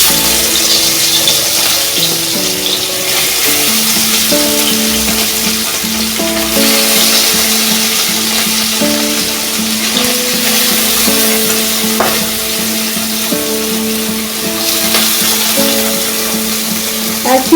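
Parshe fish fry in hot oil for a spicy mustard dish, a steady crackling sizzle running throughout with occasional stirring and scraping, while background music plays along.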